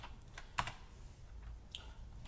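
Password typed on a computer keyboard, a handful of soft, irregular key clicks with one sharper tap, quiet and close with no talking.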